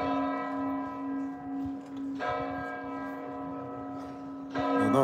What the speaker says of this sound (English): the first is the gong from the clock tower